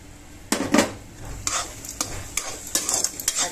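Halwa with sugar and dry fruits being stirred in a pan, a spoon scraping and clinking against the metal in quick irregular strokes over a faint sizzle.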